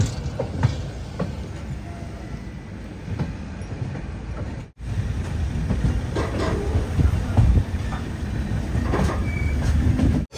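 An express sleeper train approaching Renigunta Junction rumbles and rattles steadily from inside the coach, with faint wheel clatter and occasional squeal, continuous and moderately loud with a brief break midway.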